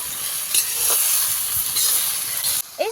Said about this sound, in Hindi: इन सारे डंठल को हम करीबन 4 से 5 मिनट तक भूनेंगे